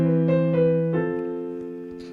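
A brief piano trill without its final tag notes: a few quick alternating notes that settle into a sustained, fading tone, played alone and close.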